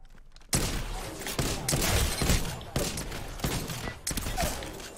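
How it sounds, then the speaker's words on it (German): Rapid gunfire bursts from an Apex Legends firefight, dense and loud with brief pauses between volleys, while players shout excitedly over the shooting. "ich bin unter Beschuss"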